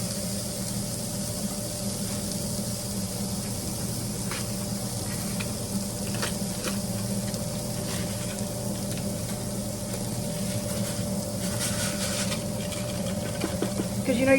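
Rice sizzles steadily in a hot pan after it goes in, a continuous frying hiss with faint stirring scrapes, close and moderately loud, no talk.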